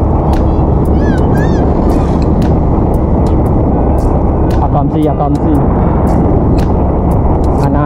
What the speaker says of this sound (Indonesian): ini suara motor yang geber-geber tadi.